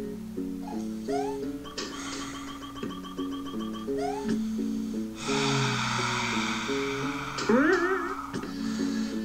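Cat meows in a video game, several short stylised meow-like calls over looping chiptune-style game music with chimes, fairly loud and continuous throughout.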